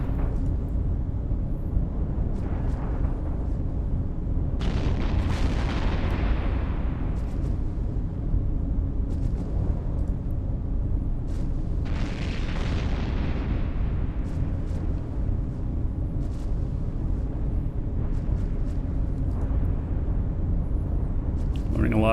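Ship weapons fire and explosions in the space game EVE Online, with dull repeated booms and rumbling blasts rising and fading over a constant low drone, while someone talks over them.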